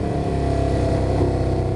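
A Honda CB500/550 motorcycle engine idles low with a poor, uneven idle, a steady close rumble with a rapid pulsing beat and no talking.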